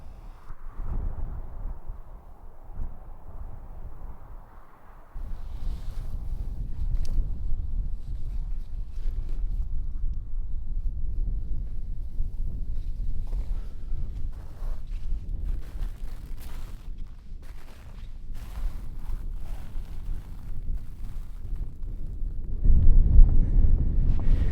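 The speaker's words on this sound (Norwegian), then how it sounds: "Nå har jeg vinden imot meg" Wind blows steadily near a mountain top in Hallingdal, a broad continuous rush that stays even throughout and swells louder near the end.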